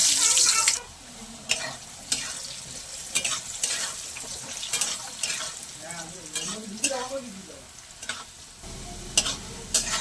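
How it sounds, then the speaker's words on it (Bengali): Potatoes sizzle and crackle in hot oil, with repeated sharp scraping stirs of a spatula against the pan, loud and close. "তেলের মধ্যে আলুগুলো ভেজে নেব।"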